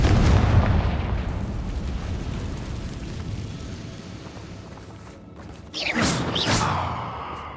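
A Confringo fire spell explodes in Hogwarts Legacy, landing as a sudden loud burst with a sharp, bright crack. It rises out of a dense, rumbling combat din and leaves a ringing tail behind it.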